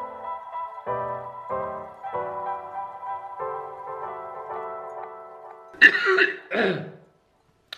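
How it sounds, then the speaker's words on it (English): A person with an oncoming cold has a coughing fit: a long series of rough, rasping, strained coughs, then two harsh louder bursts near the end before silence. "having a coughing fit"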